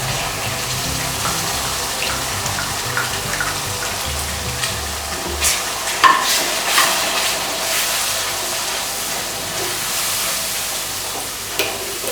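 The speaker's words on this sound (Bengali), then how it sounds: "একটু নাড়াচাড়া করে দিয়ে দেব পেস্ট করা এই মশলাটা" Masala paste of cashew, raisin, tomato and melon seeds stirred and fried in a pan for Bengali katla fish kalia, a steady close sizzle with scraping stirs and soft clinks throughout.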